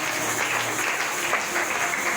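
A church congregation applauding during a worship and praise service, a dense, steady clapping from many people filling the room, loud and continuous throughout with no pauses.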